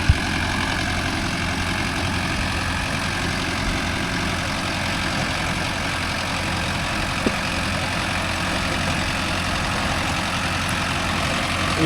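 A Mahindra Arjun Novo 605 DI tractor engine running steadily at idle on farmland, a loud, constant low diesel rumble with no pauses, heard alone and close throughout.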